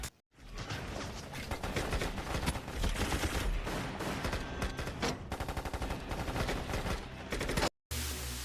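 Film battle scene full of dense automatic gunfire and rapid volleys of shots, loud and continuous, ending in a brief silence before a short final burst.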